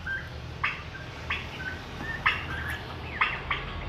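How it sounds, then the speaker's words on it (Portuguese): A male turkey gobbles in several short, fairly faint bursts, sunning outdoors among a noisy flock, with rough background noise between the calls. "Olha meu peru macho."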